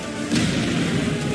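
Orbital bombardment explosions in a video game, a sustained heavy rumbling roar of distant blasts rolling together without clear breaks.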